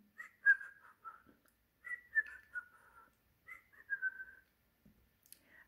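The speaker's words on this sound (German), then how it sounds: "pfeift sich bei der Arbeit ein Liedchen" A man building his house on sand whistles a cheerful little tune as he works: short, clear melodic phrases in several bursts with brief pauses, fairly close and alone.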